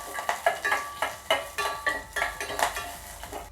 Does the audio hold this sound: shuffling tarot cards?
no